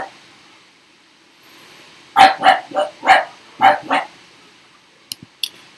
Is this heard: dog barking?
yes